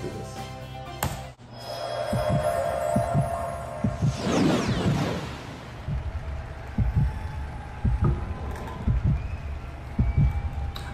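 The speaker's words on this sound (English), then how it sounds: "They really let this heartbeat go on for a minute, don't they?" Heartbeat effect from Ukraine's Eurovision 2011 song: a steady, deep double-thump pulse throbbing under a low hum and a swelling wash, repeating evenly for several seconds with no voice.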